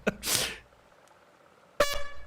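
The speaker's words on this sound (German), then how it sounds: "das war die Tröte zum Schluss, das war die Schlusströte jetzt" Short horn toot sound effect: two brief honking blasts separated by a pause, fairly loud and isolated, with no talking.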